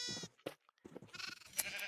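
Minecraft sheep bleating on a farm, several short wavering bleats in quick succession with brief gaps between them, clear and close with no talking.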